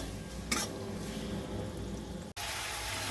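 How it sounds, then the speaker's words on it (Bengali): Masala with green chillies fries in oil while being stirred, making a steady low sizzle with one sharp scrape early on and a brief break in the sound. "এই কাঁচা লঙ্কাগুলো দিয়ে আমি এইবার মশলাটাকে ভালো করে কষিয়ে নেব একদম যতক্ষণ না তেল ছেড়ে যাচ্ছে"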